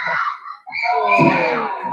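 A child screams from the sidelines of an under-9 tag game for 6-to-8-year-olds. A short cry breaks off, then a longer, louder shriek follows, sharp and close.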